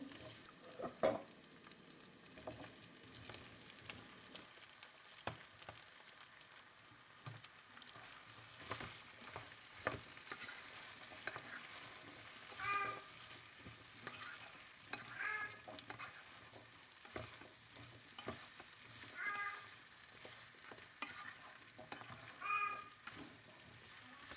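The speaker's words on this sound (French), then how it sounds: "Maintenant, je rajoute les pommes de terre coupées en cubes." Cubed potatoes fry in a pan with a steady, low sizzle. Occasional stirring scrapes and light clatter sound up close over the whole stretch.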